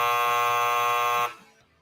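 A harsh alarm buzzer from a soundboard blares at a steady loud pitch for over a second, then cuts off abruptly and leaves faint background noise.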